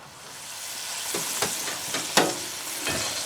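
Smoked ponce (chaudin), a stuffed pork stomach, browning in a hot pan, giving a steady close sizzle with a few sharper pops and crackles standing out over the frying hiss.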